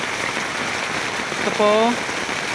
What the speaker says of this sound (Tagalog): Malakas po lang ulan dito.